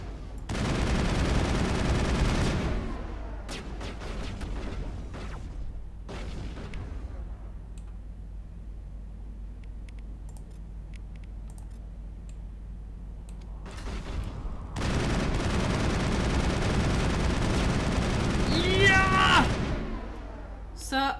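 Rifle gunfire in the sci-fi video game Mass Effect, loud bursts of rapid shots in two clusters separated by a quieter stretch, with game effects and no speech.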